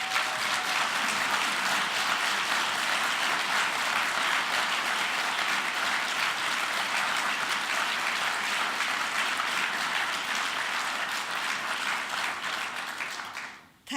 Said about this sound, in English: And can we actually give a round of applause to Inger?